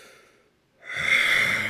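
A voice imitates the heavy breathing of a creature, a quiet intake followed by a loud, drawn-out breathy exhale, close and alone.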